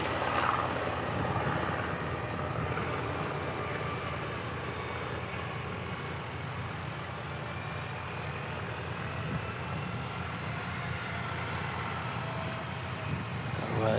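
A jet airliner taxis along runway 20 at Christchurch Airport, New Zealand, a steady distant engine drone with wind noise, holding even and continuous throughout.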